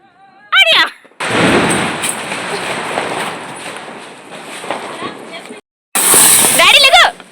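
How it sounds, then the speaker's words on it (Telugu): Diwali firecrackers bursting during a family celebration, a long loud roaring crackle of explosions that fades slightly then returns, with children's excited voices heard at the start and end. "ఒక సైడ్ నుంచి అయితే బాంబులు కాలుస్తున్నాం."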